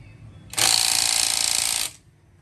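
A Dekton cordless impact wrench on its low setting runs in one steady, loud burst of about one and a half seconds while loosening a rear wheel, with a dense hammering whir up close.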